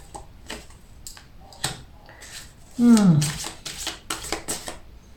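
Tarot cards being shuffled and handled for an Aries horoscope reading give off crisp, close riffles and taps in short bursts, with a voice speaking over them midway.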